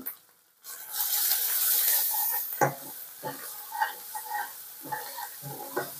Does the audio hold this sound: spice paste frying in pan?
yes